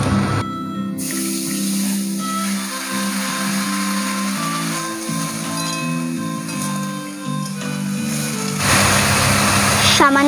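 Water taro (shola kochu) frying in hot oil in a home kitchen pan for a rohu fish curry, giving a steady broad sizzle and hiss that runs throughout and swells louder near the end.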